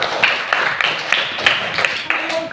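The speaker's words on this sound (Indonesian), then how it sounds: "Tepuk tangan dulu," A group of schoolchildren claps hands together in a classroom, several short bursts of rhythmic clapping close by, each burst a quick cluster of sharp slaps.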